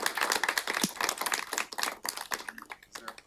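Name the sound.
applause at a directors meeting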